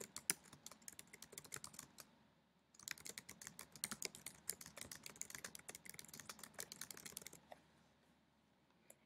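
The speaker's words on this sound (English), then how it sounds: "And I'm going to type a brief description." Rapid typing on a computer keyboard, close and quiet, with a short burst of keystrokes, a brief pause, then a longer steady run of clicks that ends in a few final taps.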